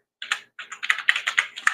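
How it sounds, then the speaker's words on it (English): A computer keyboard is typed on in a quick, close, irregular flurry of crisp key clicks that starts after a brief silence and runs on without any talking. "I'm typing. I apologize."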